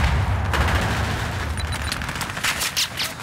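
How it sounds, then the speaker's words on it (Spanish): Rapid, dense gunfire fills a competitive team shooter match with sustained loud bursts and overlapping shots throughout, and no voices. "Están disparando."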